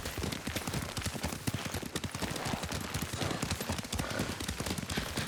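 Horse hooves clop rapidly and continuously at a gallop in the game Ghost of Tsushima, dense rhythmic thuds carrying steadily throughout at moderate level.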